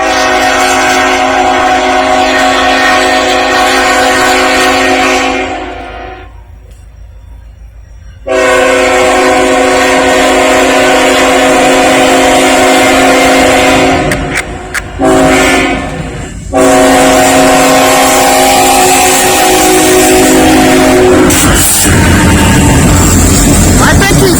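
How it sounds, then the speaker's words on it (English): A train horn blares long and loud nearby while a heavy three-locomotive CSX eastbound freight train rumbles past in Lynchburg, Virginia; the horn breaks off briefly, then resumes over the rolling clatter. "Gave me a horn salute."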